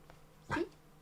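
A dog gives a single short bark on command indoors, one sharp, close sound in an otherwise quiet room.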